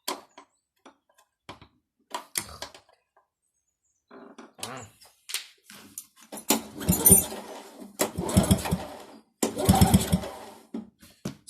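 A Motostandard lawn mower engine is cranked by its stiff starter cord, giving a series of irregular scraping pulls and mechanical rattles that grow louder toward the end, close and without a start.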